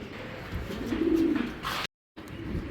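Pigeons coo in a loft of breeds such as Belgian, Maxi, Grizzle and Tiger Grizzle, with a low steady burble building for about two seconds, then a brief dropout before the cooing resumes.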